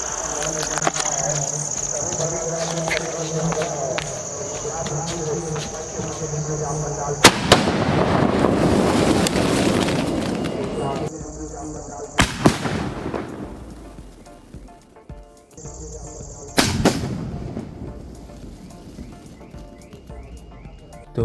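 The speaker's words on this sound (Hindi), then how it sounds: "हमने इसका एक शॉट टेस्ट किया एंड वो थोड़ा नीचे फटा, लेकिन डिस्प्ले काफ़ी अच्छा था।" Cock Brand Pansy small sky shot firework set off outdoors, with a sharp launch crack followed by loud booming bursts and crackle, repeated several times over a steady background of insect chirps and faint voices.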